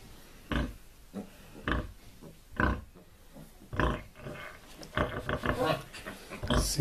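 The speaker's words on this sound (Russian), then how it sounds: "Свинка кормит поросят," A sow grunts in repeated short bursts while nursing her nine piglets on a farm after farrowing, calling them to feed. The grunts come close and fairly loud at a steady, quickening rhythm, with softer piglet squeals and rustling in between.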